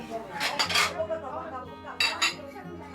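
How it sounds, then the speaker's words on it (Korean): Dishes, pots and cutlery clatter and clink during washing up in a kitchen where a large lunch is being prepared, with bursts of loud clanking close by and a brief murmur of talk underneath. "설거지가 뭐 보통 일 아니네"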